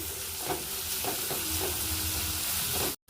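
Whole cinnamon, cloves and cardamom fry in a pan with a steady close sizzle, broken by a few soft stirring scrapes, and cut off abruptly at the very end.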